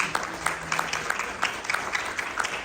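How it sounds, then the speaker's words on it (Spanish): Church congregation clapping for a man during a service, a broad wash of steady applause with sharper claps popping out, fairly quiet and held at a distance throughout. "Denle un aplauso al Señor,"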